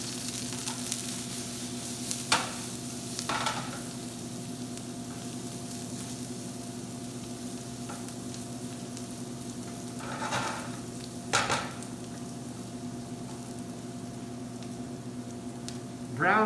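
Onions and garlic with saffron sizzle softly and steadily in oil for risotto, with a few brief scrapes of stirring at intervals, fairly quiet and close, with no talk over it.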